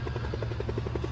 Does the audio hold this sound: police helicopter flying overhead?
yes